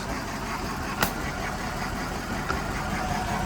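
A 2007 Mercedes CLK550 engine idles with a rough, uneven rumble from a misfire, a faint tick or stumble breaking through now and then, steady and fairly close.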